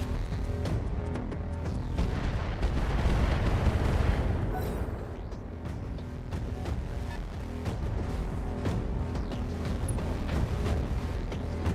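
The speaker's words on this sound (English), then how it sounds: "You can hear it on the anti-missile firing and particle cannons and gauss rifles." Heavy mech weapons fire in Battletech: rumbling booms and blasts from particle cannons, gauss rifles and anti-missile fire overlap with sharp zapping shots, a dense, continuous barrage swelling in the middle.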